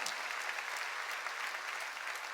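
A large church congregation at a summer revival gathering claps steadily and loudly, a thick even roar of applause with no pauses and no speech.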